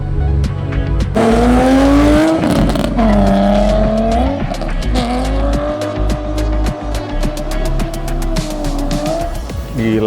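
A drift car's tires squeal on a race track during a track day, loud and sustained for several seconds with a roaring engine beneath and rising and falling pitch as it slides.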